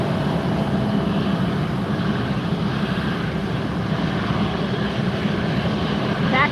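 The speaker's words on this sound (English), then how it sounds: "Taxing up in front of us now, Air Canada Star Alliance livery. This is an A330-300 headed off to Montreal" Air Canada Airbus A330-300 jet in Star Alliance livery taxiing at Fort Lauderdale airport, a steady close broadband engine roar and rumble that holds constant throughout, with faint talk now and then.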